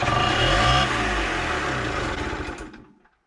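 A Honda MTX 50cc moped engine with a GF9 motor and freshly swapped carburettor jets revs loudly with a buzzing, sputtering note, holds high, then fades and cuts out to silence near the end.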